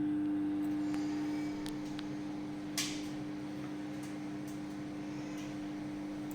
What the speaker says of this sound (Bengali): তো আবার মাইক্রোওয়েভ প্লাস গ্রিল অপশানে আমি 10 মিনিটস আরও রাখবো